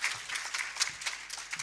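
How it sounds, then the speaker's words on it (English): An audience at a Kenya budget analysis forum applauds. The clapping is a dense, steady patter that runs through the whole short stretch, moderately loud, with no voices. "Let's appreciate the CS one more time with a round of applause."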